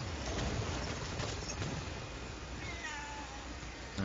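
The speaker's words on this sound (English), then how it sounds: "I'm sorry if my cats are audible." Domestic cats meowing in a room during a gaming session, faint and muffled beneath a steady broadband hiss, with no talking.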